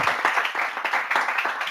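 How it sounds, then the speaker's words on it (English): Audience applause at a tech talk, a short burst of many hands clapping together in a steady, fairly close patter that holds evenly for under two seconds. "Nice, another applause."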